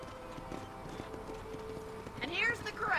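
Horse hooves clip-clop at a steady walking pace in a Red Dead Redemption ranch corral. A character talks over them, and other game sounds swell near the end.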